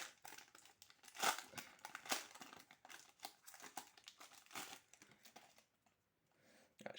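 Pokémon card booster packs from a Scarlet and Violet box being torn open: quiet, close crinkling and ripping of foil wrappers in uneven bursts, fading near the end.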